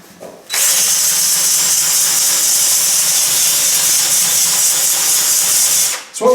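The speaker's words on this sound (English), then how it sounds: "I like to use the buffy to clean up the dorsal wall" Buffy sander with 80 or 60 grit roughing the dorsal wall of a horse hoof, heard as a loud steady whirring hiss that starts abruptly, holds for several seconds, then winds down.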